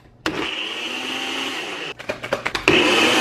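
A blender whirs loudly through a thick smoothie bowl mix. It runs steadily, cuts out, restarts in several short pulses, then roars back on at full power.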